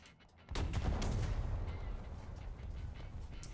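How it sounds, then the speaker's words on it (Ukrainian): Anti-aircraft gun or infantry fighting vehicle in War Thunder firing on a T-80UD tank: a sudden loud burst of rapid gunfire hits after a quiet half-second and continues as a sustained dense rattle. "Мене довбить зенітка, чи що це, чи БМП?"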